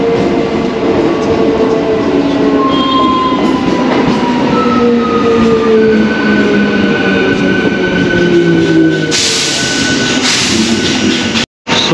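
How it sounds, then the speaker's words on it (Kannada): A passenger train slowly arriving at Baiyappanahalli railway station in Bengaluru: loud, close rumble of rolling wagons with long squealing wheel tones sliding in pitch, a hiss building near the end, no talk. "ಅಲ್ಲಿ ನೀವು ನೋಡ್ಬೋದು ನಮ್ಮ ಟ್ರೈನು ನಿಧಾನವಾಗಿ ಅರೈವ್ ಆಗ್ತಿದೆ ಬೈಯಪ್ಪನಹಳ್ಳಿ ರೈಲ್ವೆ ಸ್ಟೇಷನ್ಗೆ"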